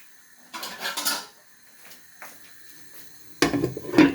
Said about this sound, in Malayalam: ചുറ്റിച്ച് നമ്മൾക്കതിനെ ഒന്ന് ഒരു പാത്രം വെച്ച് നമുക്ക് മൂടി കൊടുക്കാം.